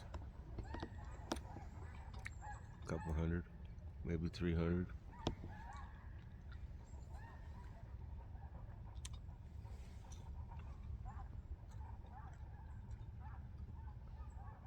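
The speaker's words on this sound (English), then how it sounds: "At least I think they were snow geese." A large flock of snow geese honks from a distance, with dense overlapping calls peaking in two loud bursts early on before thinning out. Someone talks briefly over the calls.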